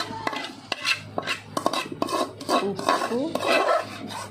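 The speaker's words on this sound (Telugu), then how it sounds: "మా అత్త ఎంత గట్టిగా నూరుతుందో." Tomato chutney ingredients are ground by hand on a grinding stone, giving repeated hard scraping and knocking strokes in an uneven rhythm, close and fairly quiet, with a brief spoken word.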